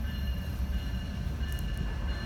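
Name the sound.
train passing a railroad crossing at night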